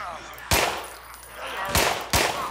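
Pistol shots in the zombie game Contagion: three loud, sharp reports with ringing reverberant tails, spaced irregularly over a low background hum.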